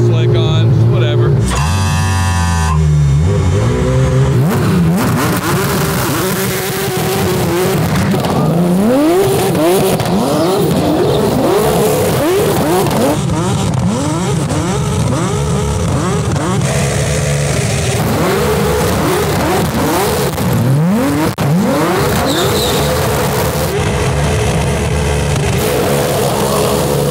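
A 1,100hp Porsche GT3 Turbocup race car on Yokohama race slicks does victory donuts at Pikes Peak, its engine revving up and down in repeated sweeps, loud and continuous, with tire noise and people talking over it.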